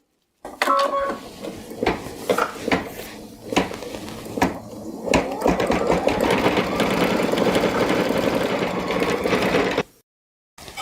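An embroidery sewing machine runs close by, stitching applique with a rapid mechanical whir and clatter punctuated by clicks, then settles into a steady hum before stopping abruptly near the end; no voices.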